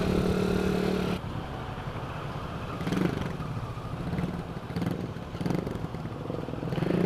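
Motorcycles ride together, a Hartford Diablo 650 alongside cafe racers and a CBR 150, with a steady engine drone that swells and eases in repeated waves as the bikes rev and shift.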